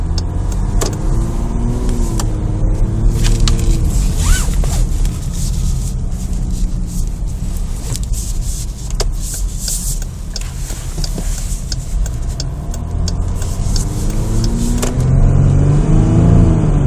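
A 2014 Jeep Grand Cherokee with the 3.0 EcoDiesel engine accelerates, a steady, loud low engine drone with rising and falling pitch under continuous road and wind noise.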